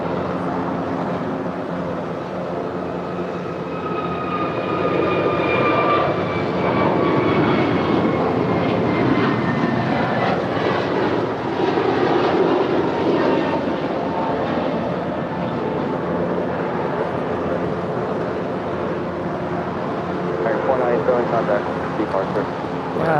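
A Southwest Boeing 737-700 lands on the south side at LAX, jet engines roaring steadily and close with a whining tone sliding downward, while a voice talks over much of the pass.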